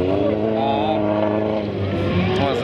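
A carburetted race car engine at a demolition derby fires up, puffing black smoke, and settles into a loud, buzzing idle with strong harmonic drone, heard close.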